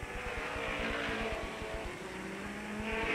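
Race cars at Avilla Motor Speedway roar around the track in a close, loud, continuous engine drone with rapid pulsing as a car comes high off the first turn holding its RPMs up.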